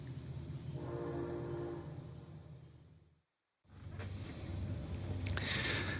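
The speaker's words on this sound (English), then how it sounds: "And is this another train?" A passing train heard through an open window, its horn sounding in a long blast over a rumbling roll, then a short break before the train noise and higher squeals return.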